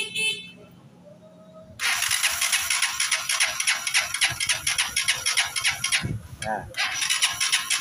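Honda TMX 125 motorcycle kick-started and running roughly, its engine misfiring with an uneven, stumbling rattle that starts abruptly and stays loud and close, with a brief stutter near the end, while someone speaks over it.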